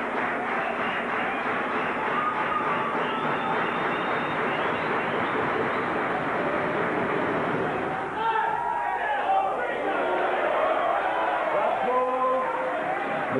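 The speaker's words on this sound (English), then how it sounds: "The crowd really starting to liven up here." Crowd at an indoor cricket grand final between Australia and New Zealand: a dense, sustained wash of cheering and voices rolls on continuously, swelling slightly partway through, with commentary talk audible over it.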